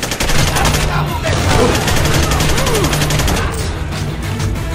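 Gunfire in Splinter Cell: Conviction, a rapid, dense fusillade of shots that runs loud and nearly continuous through the clip, with a low steady game tone underneath.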